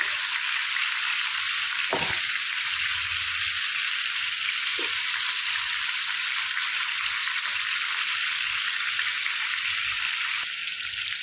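Vaam fish frying in mustard oil gives a continuous loud, close sizzle and crackle, broken by a couple of brief soft knocks from the pan, with no voices.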